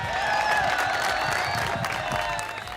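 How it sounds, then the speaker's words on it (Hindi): Studio audience at a Wagah Border special show clapping and cheering for meme makers, a steady dense burst of applause with crowd noise and faint voices mixed in. "क्या सारे मीम बनाने वालों के लिए तालियां हो जाएंगी"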